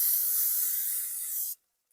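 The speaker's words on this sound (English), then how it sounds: "I'm just going to spray that real good." Cooking spray on a baking pan hisses continuously for about a second and a half, then cuts off abruptly into silence before a brief restart.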